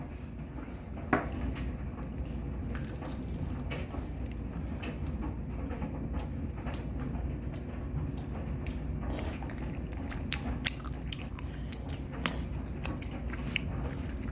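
A child eats tteokbokki, chewy Korean rice cakes, with soft wet chewing and biting noises close up, plus a few light clinks of cutlery against a dish over a steady low background hum.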